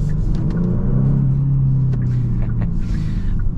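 A 2023 Genesis G70 turbo engine pulls hard under acceleration, a loud steady low rumble with rising engine tone heard from inside the cabin, with a few small clicks over it.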